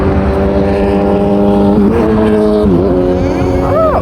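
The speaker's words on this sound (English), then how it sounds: "Those are cars." Cars travel a busy road between Karen and Nairobi's CBD, with loud, continuous engine drone and rising and falling tones as vehicles pass close by in steady traffic.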